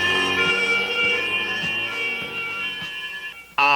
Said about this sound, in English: You can hear the European sirens.